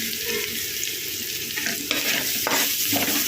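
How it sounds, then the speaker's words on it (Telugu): Onions sizzle loudly in a hot pan, with stirring scrapes and crackling fry noise close up and continuous. "ఈ ఆనియన్స్ కొంచెం బాగా ఫ్రై అవ్వాలి"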